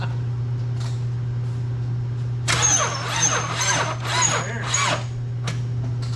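A car engine with Purple Power cleaner in its oil cranks, then catches and runs, with a high squeal over the engine for a few seconds before settling back to a steady idle hum.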